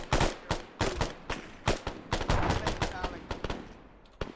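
A close, rapid burst of automatic gunfire during a firefight in the ArmA military game, with sharp shots in uneven bursts over roughly four seconds that thin out toward the end.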